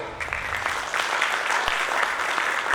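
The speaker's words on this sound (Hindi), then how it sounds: "हम हर सेशन चालू करने के पहले सर का स्वागत जोरदार तालियों से करें।" An audience gives enthusiastic applause to welcome a speaker at a talk session, a short, dense patter of clapping that swells after the first second and holds steady.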